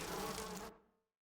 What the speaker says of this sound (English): We gotta get rid of these bees first, but we can't get close enough to spray them.